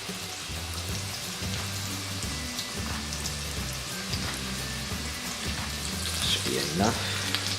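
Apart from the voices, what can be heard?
chicken frying in a pan for orange chicken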